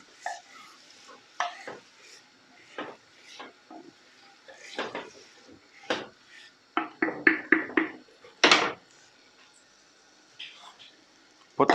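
Mutton being mixed in a clay pot, scattered scrapes and knocks of a spoon against the earthenware, with a quick burst of stirring strokes and one louder clatter, fairly quiet, with soft speech in places.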